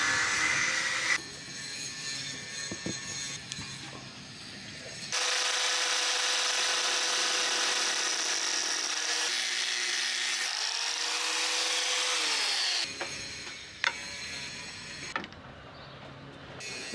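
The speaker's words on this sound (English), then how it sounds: "So I'm cutting the bolts for the rudder post." Power tool cutting metal bolts to length for a sailboat's rudder post during an amateur boat refit, a loud sustained whine running for about seven seconds, bracketed by shorter bursts of cutting and handling noise before and after.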